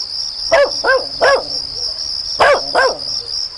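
A dog barks five times in two short bursts, fairly close, with a steady cricket trill in the background.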